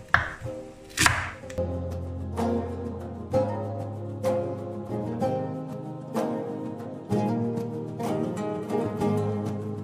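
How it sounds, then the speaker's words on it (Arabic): A knife chops onion and leek on a board in a home kitchen, a run of close, regularly spaced thunks over a steady background of music. "غادي ندوز نقطع البصل والبورو"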